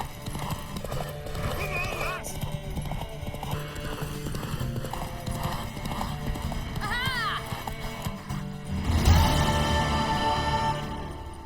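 A horse gallops with rapid clip-clop hoofbeats and whinnies during a race in The Witcher video game, under music and bursts of speech, with a louder surge of hooves near the end.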